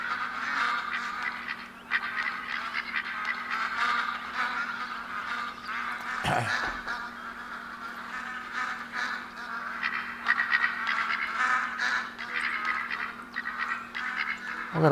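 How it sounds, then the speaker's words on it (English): A flock of ducks quacks and honks steadily in the hunting video game The Hunter: Call of the Wild, on the New England Mountains map, a busy moderate chorus with one louder thump partway through and no talk. "there's a bunch of ducks around here"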